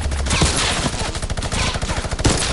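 Rapid gunfire in a video game, with dense bursts of automatic shots firing nearly nonstop and loud, close and overlapping throughout.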